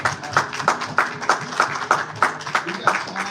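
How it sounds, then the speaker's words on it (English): An audience at a jazz jam master class with a piano trio claps in a steady rhythm, about ten evenly spaced claps at moderate volume. "So let's give another round of applause"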